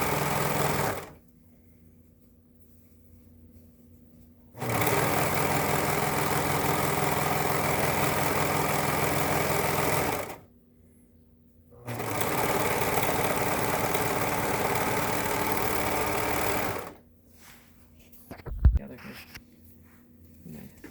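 A sewing machine stitches a straight seam in three sustained, even runs separated by short pauses, ending with a brief clunk and some handling sounds.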